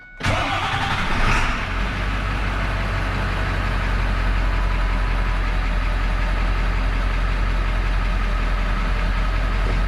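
A Ford F-450 truck engine starting and settling into a steady, loud idle while warming up, a continuous low rumble that holds evenly after the initial catch.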